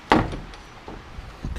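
A farmhouse back door opens with a sharp close thud and latch clack, followed by softer knocks and a final bump as it moves, all brief and near.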